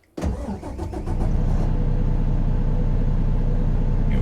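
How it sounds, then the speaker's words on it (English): A Volvo VNX 300 logging truck engine cold-starts in American Truck Simulator, cranking briefly before catching and settling into a loud, steady, deep rumbling idle that swells slightly and holds. "Let's do a cold start,"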